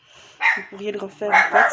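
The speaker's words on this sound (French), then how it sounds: "Désolée pour mon chien en fond de..." A dog barks a few times in the background of a room, short yips and barks mixed under someone speaking French.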